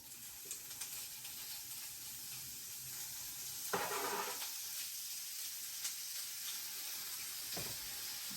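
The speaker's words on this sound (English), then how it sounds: "Fry up my sausage." Sausage frying in a pan crackles with a soft, continuous sizzle, dotted with small pops and a brief louder burst midway as it is stirred or turned; no one speaks.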